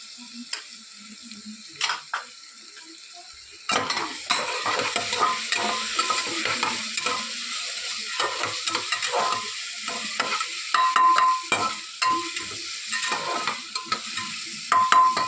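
Chopped onions fry in hot oil with ginger paste while being stirred for a chicken curry: a steady sizzle with frequent close scrapes and clacks of a spoon against the pan, louder after the first few seconds.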